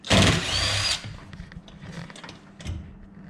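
A power drill backs out a short builder-grade bolt holding a garage door end bracket to the wall during a Wayne Dalton Torquemaster Plus spring replacement, one loud whirring burst of about a second followed by faint clanks and handling noise.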